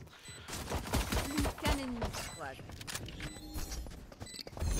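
Gunfire in the shooter game Valorant, rapid bursts of weapon fire crackling close and loud over game noise while a player talks over it.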